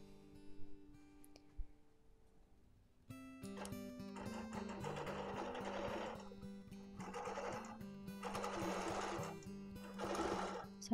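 A sewing machine bastes the final edge of a zigzag quilt during free-motion quilting, running in several steady bursts of rapid stitching after a quiet opening, with brief pauses between runs.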